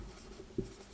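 A brief scratch of chalk or pen marking an equation during a Hindi-language maths lecture on angles, one faint short stroke against a quiet room hum.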